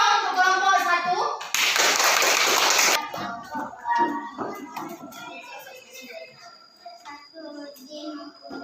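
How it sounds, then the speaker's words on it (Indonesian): Schoolchildren in a classroom clap together for group 1 in one short, loud burst lasting about a second and a half, framed by children's voices talking before and after. "Beri tepuk tangan dong untuk kelompok 1"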